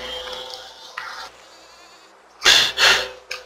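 Sheep in the physics building game Besiege let out two loud, close bleats in quick succession, preceded by quieter game noise and followed by a brief short cry.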